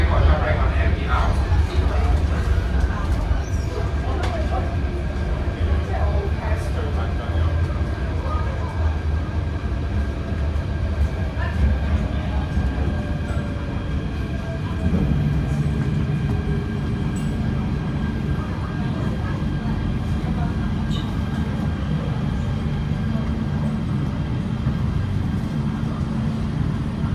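A Hong Kong MTR Airport Express TCL K-train, sets V615/V815, running out of service toward its depot. It gives a steady, loud rail rumble and wheel noise throughout, with faint voices in the background.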